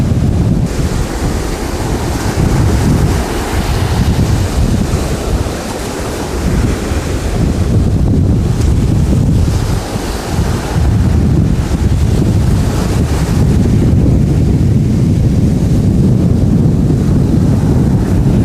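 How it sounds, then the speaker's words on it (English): Ocean waves break on a shore near the Senegal River, a loud, continuous roar of surf with heavy wind buffeting the microphone throughout and no voices. "Nice looking waves."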